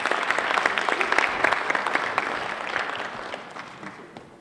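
Dense audience applause at a road authority annual conference fills the room, loud at first and then gradually tapering off, with no voices over it.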